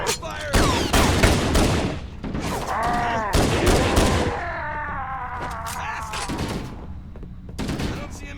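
Heavy gunfire from the video game Halo 1 on PC, dense bursts of automatic fire and explosions, with rapid weapon reports and strained voices mixed into the battle din.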